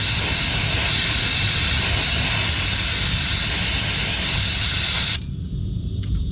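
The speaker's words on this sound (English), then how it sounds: "always blast anywhere the oil may have dripped with brake clean" Aerosol brake cleaner sprayed under an Infiniti G37 IPL during an oil service, a loud continuous hiss that cuts off sharply near the end, close by.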